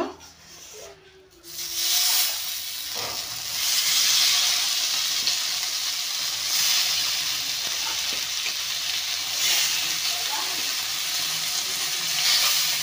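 Fish sizzles steadily in hot oil, a continuous close hiss that swells and fades slightly, with faint background noise and no clear talking.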